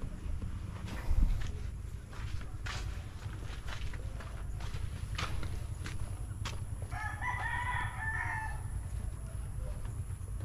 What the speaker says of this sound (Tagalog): Ayan, kanyang mga alaga, mga manok,